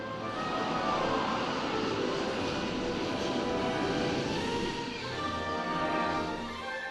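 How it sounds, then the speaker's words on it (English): A Hawker Harrier VSTOL jet aircraft roars steadily and loudly, a broad sustained engine rumble and whine holding at constant strength throughout with no voices. "the Hawker Harrier"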